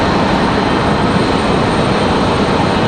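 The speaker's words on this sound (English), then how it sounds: "We're about to have the 777 from Paris right here in front of us" A Boeing 777 airliner from Paris passing close by at Raleigh-Durham airport, a loud, steady broadband jet roar that fills the whole stretch without letup and no voices.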